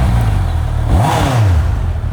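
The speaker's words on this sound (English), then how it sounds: "this bike is starting." A rebuilt Honda CBR650R motorcycle engine running loud and close, a steady mechanical drone that rises and falls through a quick rev.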